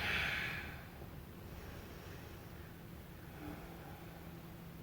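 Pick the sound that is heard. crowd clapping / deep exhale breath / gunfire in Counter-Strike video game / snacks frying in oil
deep exhale breath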